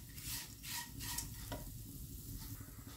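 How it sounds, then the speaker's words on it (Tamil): Flattened rice (aval) roasting in ghee in a pan while being stirred, giving a steady soft sizzle with rhythmic scraping strokes close up and no voices. "நம்ம எடுத்து வச்சிருக்கிற 1 கப் அவல் அதை போட்டு இதை சிவக்கிற அளவுக்கு இதை கொஞ்சம் வறுத்து எடுத்துக்கலாம்"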